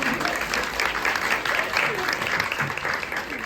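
An audience at a panel during a Berlin art exhibition applauds steadily throughout, a dense wash of clapping from many hands, loud and close.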